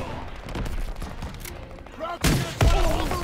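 Gunfire in the Call of Duty WW2 campaign on PS5: a sustained rattle of shots and bursts, with two heavier booming blasts near the end and voices faintly underneath.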